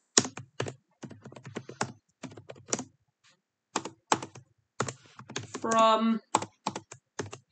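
Keys clatter on a computer keyboard as a Christmas card message is typed, coming in short quick bursts separated by pauses, close and fairly crisp, while a voice speaks briefly toward the end.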